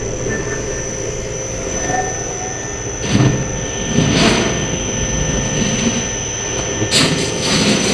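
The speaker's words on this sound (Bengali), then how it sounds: "কিপ্যাড দিয়ে মোটরটা রান করতেছি।" An electric motor driven by an Inovance VFD inverter runs after being started from the keypad, a loud, steady whine with high electrical tones and a constant drone, broken by a few louder bumps.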